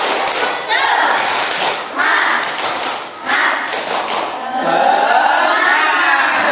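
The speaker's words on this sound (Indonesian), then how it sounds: "Satu kali tepuk semangat." A group of people performs a rhythmic spirit clap together, several bursts of unified clapping and shouting in a classroom, close and loud, with crowd voices between the claps.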